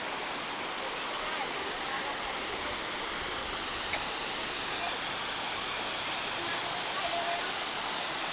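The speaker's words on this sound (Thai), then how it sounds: "ตรงนี้ก็จะเป็นน้ำตกชั้นเล็กชั้นเล็กๆนะครับ" A small waterfall tier in Namtok Phlio National Park, Chanthaburi, rushes continuously with a broad, steady hiss of flowing water close by. The noise stays unbroken throughout.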